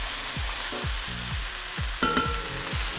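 Pork belly and vegetables sizzle steadily in a hot wok while metal utensils scrape and tap rhythmically, stirring every half second or so, with no talking.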